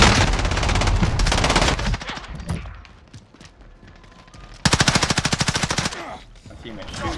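Automatic gunfire from a teammate in Call of Duty Warzone, loud and close, with a dense burst at the start and another rapid rattling burst later, separated by quieter stretches of scattered shots.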